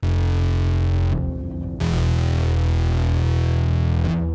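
A harp run through an Exploder distortion pedal, producing a thick, buzzing, sustained chord. It cuts out briefly, then comes back in and rings loud with a chorus-like shimmer, with no talking.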